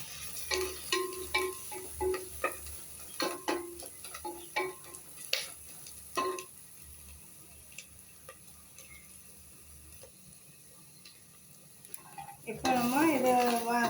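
Vegetables sautéing in a pan for basmati fried rice, with a soft sizzle under scattered spoon scrapes and clinks against the pan, then a quiet pause and a burst of louder noise at the end.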